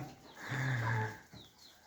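A rooster in a chicken coop crows once, a loud drawn-out call with a raspy harmonic tone, followed by softer clucking from nearby hens.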